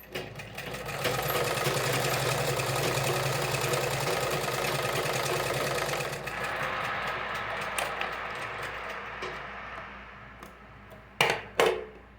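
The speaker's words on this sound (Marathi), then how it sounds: "तर आता आपण ही वरची टीप मारूयात" A sewing machine runs steadily, stitching the top seam on a cloth bag with frill and show strip, a continuous whirring hum that slows and stops, followed by a couple of clicks.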